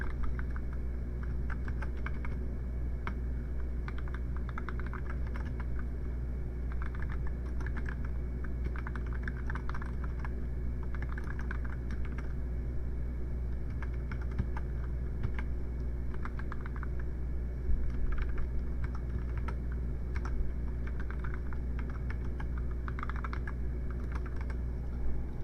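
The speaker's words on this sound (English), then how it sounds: "Let me type it out for you guys." Someone types C++ code on a computer keyboard in a rapid, uneven stream of soft key clicks, close and fairly quiet, over a steady low hum, with no talking.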